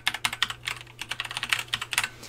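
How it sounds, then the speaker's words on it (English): Quick, light clicks from a computer keyboard as a web address is typed in during a marketing graphic design task. The keystrokes come close and clear in an uneven but steady run. "so we'll just type that in now"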